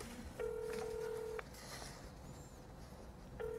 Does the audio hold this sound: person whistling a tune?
no